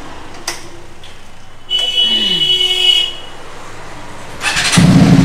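A 2023 Bajaj Pulsar NS 160 BS6 motorcycle in a second-hand bike showroom: the engine starts with a brief crank, then idles and revs in a steady buzzing drone, dips, and surges into a louder, deep booming rev at the end.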